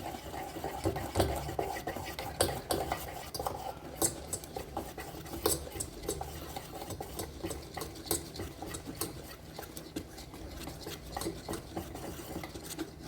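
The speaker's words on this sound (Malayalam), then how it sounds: "ഇത് ചേർത്ത് കൊടുത്തിട്ട് നമുക്ക് നന്നായി ഒന്നുകൂടെ ഇളക്കി യോജിപ്പിക്കാം" Dhokla batter with Eno added gets stirred in a bowl, a run of quick irregular scraping and clinking strokes from the utensil against the vessel, steady and fairly close, without talk.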